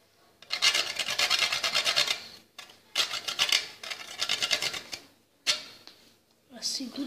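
Nutmeg is rasped on a grater in repeated bursts of scraping strokes, each lasting a couple of seconds, close and fairly loud with short pauses between them.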